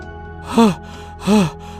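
A cartoon character pants after running through a forest at night, two loud drawn-out breaths about half a second apart over a quiet hum.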